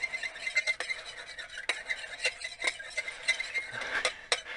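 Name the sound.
stirring pork chops in an Instant Pot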